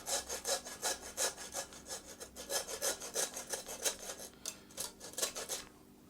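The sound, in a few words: sawing through fallow buck venison bone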